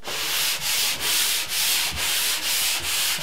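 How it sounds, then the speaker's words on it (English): A sanding pole rubs across joint compound on a drywall wall in steady back-and-forth strokes, a loud rhythmic scratchy swish about twice a second, close and without talk. "Take my sanding pole."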